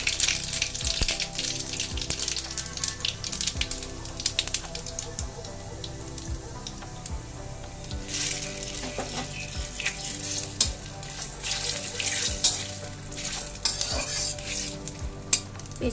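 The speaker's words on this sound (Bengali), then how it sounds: "জিরেটা একটু ভাজা হোক, এরপরে দেবো দুটো তেজপাতা দেবো" Cumin seeds and bay leaves sizzle in hot oil for a Bengali shukto, a steady close frying hiss with frequent sharp crackles and pops. A utensil scrapes and stirs the pan now and then.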